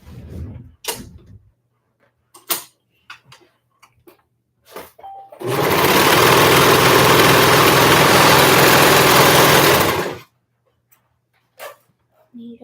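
A sewing machine stitches the short edge of folded fabric for a small lap tee, running steadily and loudly for about five seconds between stretches of quiet talk.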